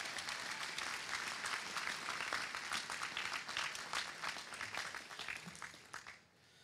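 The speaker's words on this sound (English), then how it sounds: "Maybe one more round of applause for the performers." Graduation ceremony audience at RIT Kosovo applauding the performers, a sustained burst of dense clapping from a large room that tapers off and drops away near the close.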